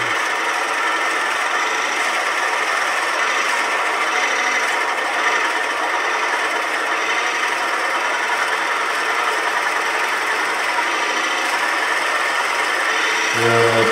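Wood being bored out on a lathe with a smaller cutting blade while making a cocktail smoker, a steady, close, dense scraping and rasping grind that runs unbroken and fairly loud, with no talk.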